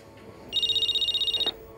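A telephone rings once indoors in a fast warbling burst lasting about a second, loud and close against a quiet room.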